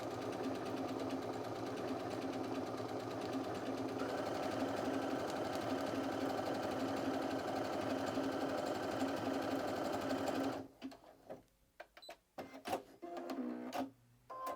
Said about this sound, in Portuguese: A máquina tem que fazer os pontos na velocidade dela e você vai só direcionando.